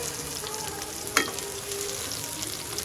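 Garlic sizzles as it fries in a pan for a Filipino Ilocano poqui-poqui dish, a steady soft crackle with one sharp sputter in the middle, heard alone with no talk.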